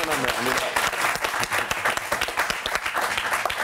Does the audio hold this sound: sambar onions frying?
no